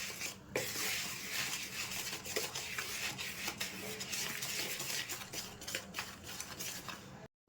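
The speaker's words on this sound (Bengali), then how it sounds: "উপকরণগুলো মিশিয়ে নেব ভালো করে।" Milk powder and a pinch of salt being stirred together in a bowl for malpua batter, a steady close scraping and rubbing that runs continuously with small rhythmic strokes, ending with a brief pause.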